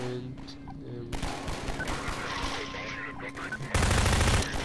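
Rapid gunfire bursts from a Half-Life 2 co-op match, continuous crackling shots over game ambience with a louder sustained blast near the end.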